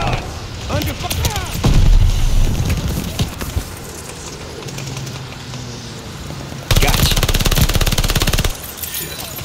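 Machine gun fire in Call of Duty gameplay, rapid bursts and sharp reports mixed with game effects, loudest in a dense burst near the end, with voices talking over it.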